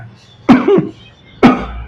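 Two sharp, close coughs, one raspy and drawn out, then a single shorter one about a second later, with quiet between them.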